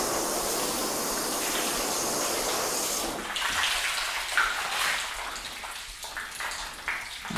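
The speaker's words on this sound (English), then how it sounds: "Still sheeting that water off quite well also." Water rushes and sheets off a car's paint sealed with Lithium spray sealant, a steady broadband hiss of flowing water that thins after a few seconds into a lighter trickling spray, close and continuous with no talking.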